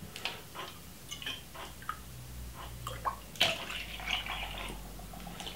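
Whole milk is poured for a Jamaican cornmeal porridge: a quiet liquid trickle with a few light drips and small clinks against a container, heard alone.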